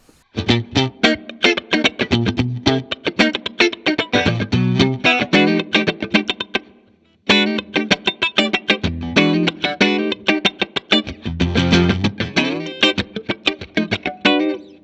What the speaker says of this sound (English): That's a really good funk kind of tone. No frills, clean.